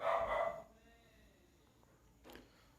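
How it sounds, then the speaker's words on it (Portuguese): A neighbour's dog barks nearby, one short burst at the start fading into faint room tone, with a softer yip following a couple of seconds later. "O cachorro do vizinho aqui latindo, gente, eu tive que dar uma pausazinha."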